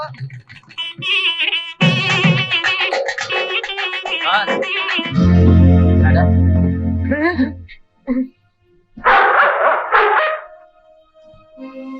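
Dogs barking in a comedy film scene, several loud, close yips and barks in bursts amid busy talking voices and a low rumbling score.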